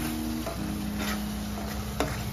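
Masala fries in oil on a gas stove while being stirred, a low constant sizzle with faint scraping strokes and a soft clink, close and without talk.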